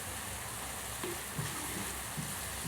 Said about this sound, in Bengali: আর একটু ভালো করে কষিয়ে নেব